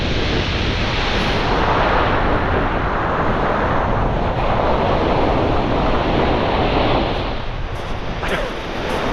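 Strong wind and surf roar on Chesil Beach ahead of a storm, a dense continuous rush of waves and gusts buffeting the microphone throughout.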